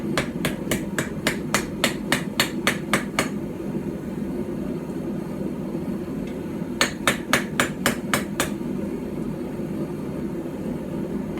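A hammer strikes metal on a small Anglo-Saxon/Viking-style stump anvil, forging a small knife, in two quick bursts of about ten ringing blows each, separated by a pause, over a steady background hum.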